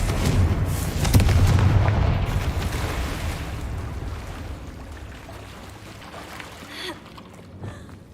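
The Confringo explosive spell in Hogwarts Legacy goes off with a deep booming blast and rumbling crackle that slowly fades, then a smaller sharp burst near the end amid game ambience.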